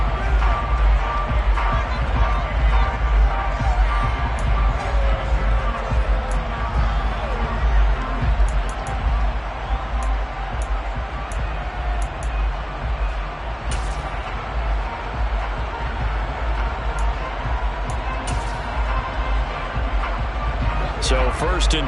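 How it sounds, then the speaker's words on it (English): Big Detroit football stadium crowd roaring and shouting steadily while watching a replay, a dense, continuous wash of voices with no breaks. "Plenty of shouts from this crowd as they watch the replay"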